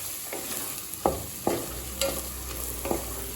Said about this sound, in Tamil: இப்போ மிளகாத்தூள் சேர்த்துட்டு 1 நிமிஷம் வரைக்கும் நல்லா வதக்கியாச்சு